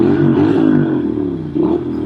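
A 2014 Norton Commando 961 SF motorcycle exhaust rumbles loudly and revs up and down nearby, deep and throaty, with no talking.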